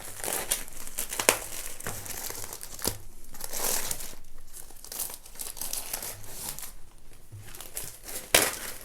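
Cardboard packaging for a Nausicaa of the Valley of the Wind manga box set is opened and crinkled, giving close, busy crackling and tearing rustles with sharper crunches scattered throughout.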